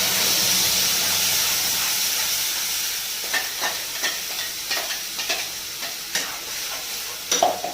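Tomato paste stirred and fried in a pan, a steady loud sizzle and hiss with scraping stir strokes that grow more distinct and rhythmic toward the end.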